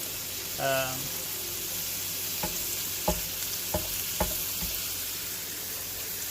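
Food fries in a pan with a steady close sizzle, interrupted by a brief scraping stir and several sharp taps of a utensil chopping the food against the pan.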